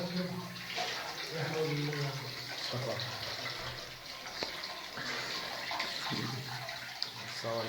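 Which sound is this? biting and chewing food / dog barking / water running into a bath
water running into a bath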